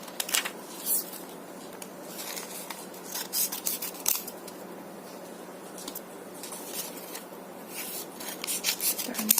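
Scissors snipping excess paper while shaping a handmade paper flower, a run of quick, crisp close cuts with small rustles of paper between them.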